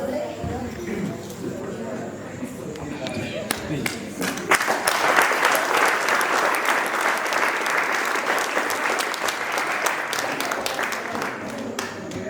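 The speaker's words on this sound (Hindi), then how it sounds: "मैडम के लिए ताली बजाएं।" Audience at a school debate prize announcement applauds a teacher, sustained clapping that swells after a quieter opening and stays loud and dense, with some voices mixed in.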